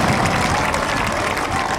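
A church congregation applauds in a dense, loud, steady wash of clapping that fills the whole moment.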